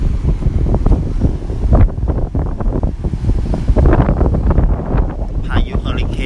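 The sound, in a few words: strong wind on the beach before Hurricane Dorian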